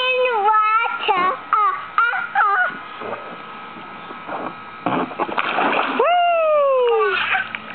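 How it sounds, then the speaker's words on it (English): A small child plays in cold water, making splashes between excited squeals and high playful vocalizing, with an adult's voice close by; the splashing comes in several bursts, loudest toward the end. "Whee! Splash."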